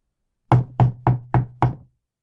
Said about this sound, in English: A knocking on the door interrupted further interchanges on the peculiarities of royalty.